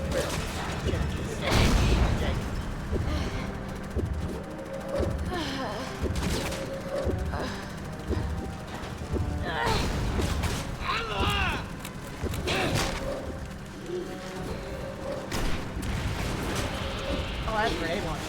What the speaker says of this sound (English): Oh, that's a grenade launcher.